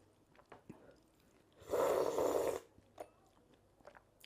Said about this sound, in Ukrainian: а ви напишіть, чи чути моє сьорбання.